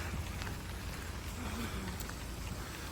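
Steady rain falling in a residential neighbourhood in Ukraine, a soft, even hiss of drops with no breaks, faint and continuous.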